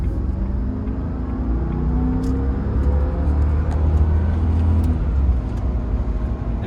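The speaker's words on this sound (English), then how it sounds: "in the passenger seat, I hear more of the exhaust note almost than I did in the driver's seat" A Jaguar X308 pulls away from a traffic light, its exhaust note a steady, deep, fairly loud rumble with a faint rising tone, heard from inside the cabin in the passenger seat.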